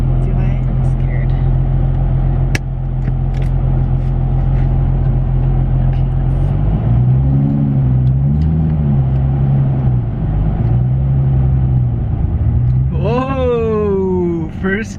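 Infiniti G37 with a manual gearbox pulling away in first gear, its engine droning steadily and then rising in pitch as it accelerates, loud and close from inside the car, with people talking over it.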